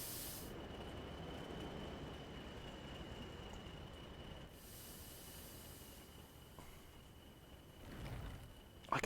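A train in the video game Train Sim World 4, on a Northern Trans Pennine line, runs with a steady rumble, hiss and a faint whining tone, quiet and continuous, with a brief swell near the end.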